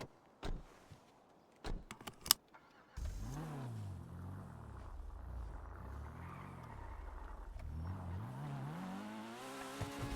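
Car engine in a racing video game, revving and shifting gears with rising and falling pitch sweeps, preceded by a few sharp clicks and knocks, then steady close engine drone throughout.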